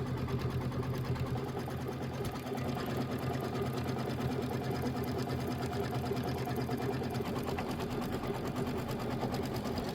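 An embroidery machine stitches a Kimberbell Thanksgiving pillow block in linen, a steady, fast mechanical whir with a rapid needle rhythm that runs continuously and loudly throughout, with no voices.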